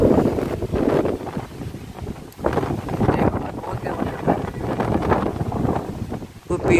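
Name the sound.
strong wind blowing at night near a big tree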